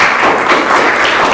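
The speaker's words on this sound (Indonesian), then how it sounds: "Oke, boleh tepuk tangan dulu semua ya." Students applauding together in a classroom, a loud, dense burst of clapping close by, filling the moment without talk.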